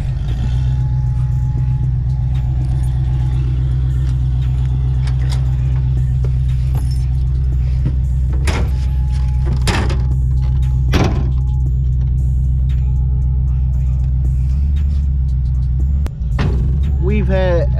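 A 1969 Ford Bronco engine, just revived after twelve years in storage, idles with a loud, deep, steady rumble heard up close, while a few clanks and knocks and brief voices break in over the drone.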